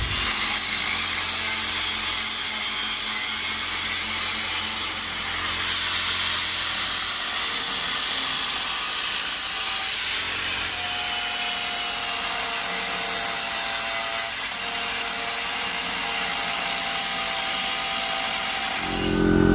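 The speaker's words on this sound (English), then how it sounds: "So first thing I'm gonna do is grab my grinder and I'm gonna start grinding." An angle grinder works steadily on trailer metal, stripping an old jack plate down to bare steel; the whine is loud, close and continuous throughout with small dips in pitch and no talking.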